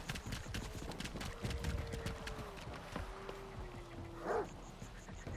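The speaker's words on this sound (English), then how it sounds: "Listen to the footsteps of me being chased." Rapid running footsteps slosh through a swamp in Stalker 2 during a chase, a steady fast patter under a faint drawn-out tonal whine, with one louder splashing burst near the end.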